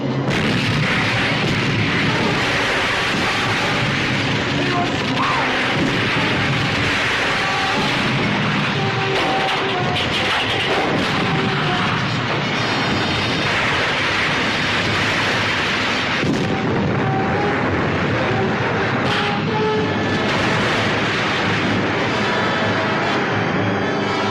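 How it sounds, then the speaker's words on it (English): A naval turret gun fires in a film, with repeated heavy booms and rumbling blasts layered over a dense, loud soundtrack of continuous noise. "Fire number 1 turret."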